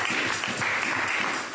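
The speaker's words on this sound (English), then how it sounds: "Let's clap for the Lord." Church congregation clapping during a worship service, a continuous dense patter of hands with lively, uneven rhythm and a full, roomy sound, steady throughout the short stretch.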